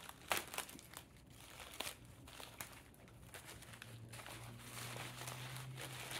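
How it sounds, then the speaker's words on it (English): Plastic mailer package ripped open by hand to get at fishing lures, a run of crinkling, crunching tears and rustles at close range with no talking. "I'm just gonna tear this."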